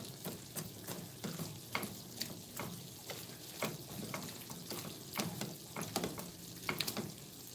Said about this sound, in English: Get all them veggies in there stirred up.